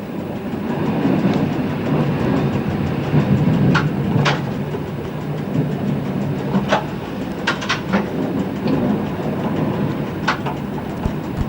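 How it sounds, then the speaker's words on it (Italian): Train cab ride into Aviano station on the Sacile–Gemona line, taking a diverging track: steady rumbling roll with sharp wheel squeals and clicks over points, close and loud, no voices. "Il nostro treno entra così in deviata in stazione di Aviano."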